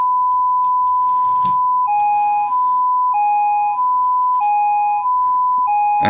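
A modular synth VCA crossfades between a triangle and a sine wave under a square-wave control voltage, giving a steady electronic tone that switches every half second or so between two timbres, with a short click burst early on.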